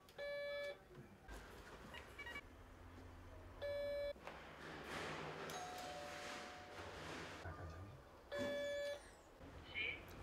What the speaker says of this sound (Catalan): començar a trucar timbres